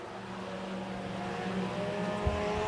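Late model and sport compact race cars on the Shelby County Speedway oval, a steady engine roar from the field running together, with a brief thump near the end; no talk.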